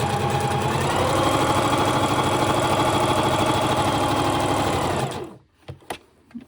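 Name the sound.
sewing machine stitching a washable face mask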